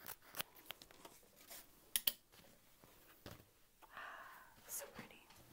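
Scissors cutting through fabric for a structured tote bag, a series of quiet crisp snips and rustles spread unevenly, close and faint, with soft speech in the background.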